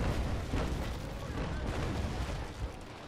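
Booming ship cannon fire in the naval game Naval Action, a dense, rumbling broadside that rolls on continuously and fairly loud, with no voices during the blasts.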